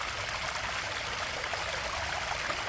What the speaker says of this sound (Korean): 청량한 맑은 물소리가 기분을 좋게 해주네요